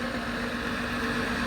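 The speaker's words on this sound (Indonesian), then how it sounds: "Oh, mesin pompanya dioperasikan ya." Engine of a flood-control water pump running at RW 17 beside Kali Kapuk, a steady droning hum with an even low mechanical tone, loud and continuous.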